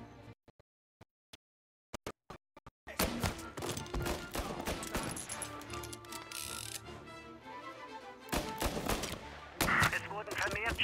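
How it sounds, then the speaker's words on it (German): Scattered sharp shots at first, then dense, sustained bursts of rapid gunfire with game-like effects, loud and continuous for most of the stretch, in Mafia: Definitive Edition. "Es wurden vermehrt Schüsse gemeldet."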